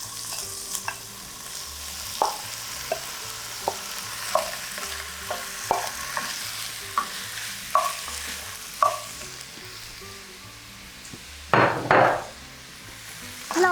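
Boneless lamb shank cubes, cut into one-inch chunks, browning in a pan for a lamb and pea stew, with a steady low sizzle broken by scattered clinks and stirring scrapes, a louder stir burst near the end.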